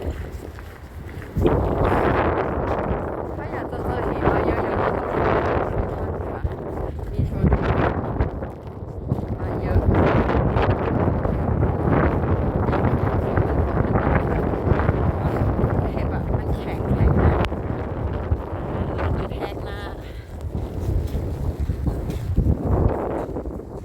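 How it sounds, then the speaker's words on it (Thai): Strong wind blowing outdoors in Finland in January, a continuous loud rushing and buffeting against the microphone for most of the clip, with someone talking over it. "แล้วลมแรงด้วยนะคะวันนี้ มีลมเยอะ"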